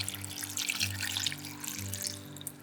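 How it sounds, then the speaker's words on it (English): Tap water running into a pot of green beans with bacon, a steady broadband pour lasting the whole moment over a low hum, close and moderately loud. "I added about half a can of water"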